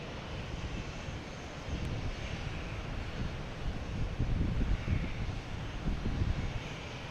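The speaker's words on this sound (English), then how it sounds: "We got the Southwest that just landed, pulling in here." A Southwest airliner taxiing in after landing at Boston Logan, its engines giving a steady low rumble that swells slightly near the end, mixed with wind buffeting the microphone.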